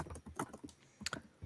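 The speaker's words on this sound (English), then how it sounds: "What are you typing away?" Fingers type on a computer keyboard in a quiet room, a faint, close, uneven patter of individual key clicks with short pauses between bursts, no speech over it.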